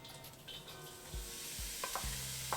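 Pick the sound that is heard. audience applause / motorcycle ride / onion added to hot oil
onion added to hot oil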